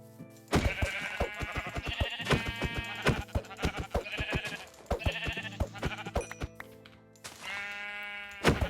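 Minecraft sheep bleat over and over in a video game, several close, loud calls with harmonics, some overlapping, with short pauses between them.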